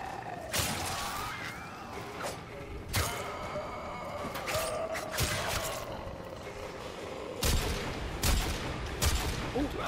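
Gunfire in Warframe during a wave-based defense mission: scattered sharp shots and impacts, some clustered, ringing against a busy background of game effects.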